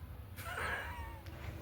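A pet cat lets out a single drawn-out meow at moderate distance in a quiet kitchen, with a low background hum and no speech.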